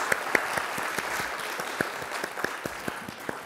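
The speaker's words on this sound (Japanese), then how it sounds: "さん拍手でお送りください" Audience at a cultural exchange forum applauds after a presentation by a Noh performer, a steady crowd of clapping with a few sharper claps standing out near the front.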